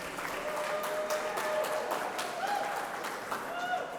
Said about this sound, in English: when I get the applause. We appreciate that very kindly.